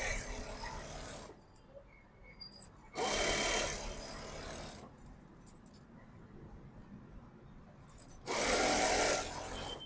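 An electric sewing machine stitches the bottom seam of straight-cut trousers with a half-inch margin, running in three loud, close whirring bursts separated by quieter pauses with faint handling clicks.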